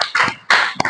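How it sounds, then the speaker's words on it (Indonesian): A classroom group claps for a pair of students, two quick loud bursts of applause with scattered sharp hand slaps, close and brief. "Tepuk tangan untuk kelompoknya Erli dan Akila."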